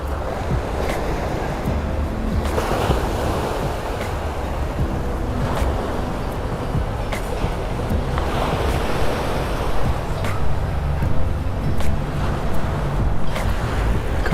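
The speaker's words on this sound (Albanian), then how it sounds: "Shumë relaksuse zhurma e detit." Sea waves wash onto the shore at Saranda, Albania, a continuous loud roar with periodic surges of breaking surf, mixed with gusty wind buffeting the microphone and no voices.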